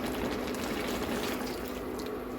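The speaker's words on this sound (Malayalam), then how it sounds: "ഇത്തിരി വെള്ളം കൊണ്ടുപോകും തോന്നിയപ്പോൾ ഞാൻ കുറച്ച് തിളച്ച വെള്ളം ഒഴിച്ചതാണ്" Boiling water is poured into a cooking pot while a Kerala thiruvathira puzhukku stew is being made, with salt, chilli and turmeric powder already added. The pour is a steady close splashing rush, heard alone for the whole stretch.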